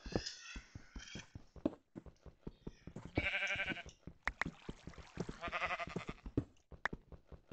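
Sheep bleating in the video game Minecraft, a series of repeated wavering bleats with short clicky game sounds between them, close and fairly loud, with no voice over them.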